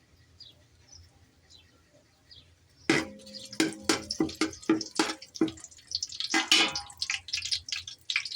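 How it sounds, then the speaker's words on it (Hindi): Bay leaves dropped into hot oil for mutton yakhni pulao burst into loud, close sizzling and crackling with sharp popping spits, starting abruptly after a quiet stretch and continuing unevenly. "सबसे पहले हम तेज पत्ता भून लेंगे।"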